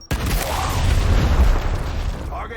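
Frag grenade explosion in the video game Gears Tactics: a sudden loud boom hits and rolls out into a deep, sustained rumble that slowly fades over a couple of seconds.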